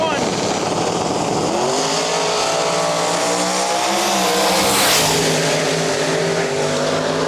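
Drag race cars launch and accelerate down the strip at a bear-themed invitational race, a loud, continuous engine roar with rising pitch that swells near the middle, while a track announcer talks over it.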